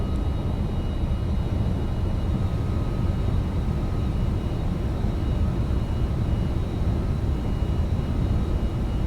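Engines of an MD-11 airliner in a flight simulator game produce a continuous, even roar with a broad rumbling hiss and a faint steady tone above it.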